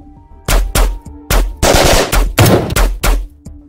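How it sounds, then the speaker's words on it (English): Rifle fire in a 28mm wargame battle depicting an SAS compound raid, loud close shots in rapid bursts, about eight sharp cracks with short gaps, dense and echoing. "They are met with precision rifle fire."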